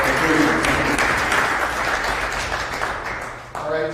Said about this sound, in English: please help me give a panel a round of applause